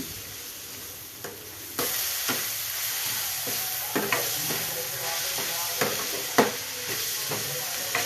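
Spices and a bay leaf fry in oil for mutton soup, giving a steady close sizzle with occasional scrapes and clicks of stirring, no voices.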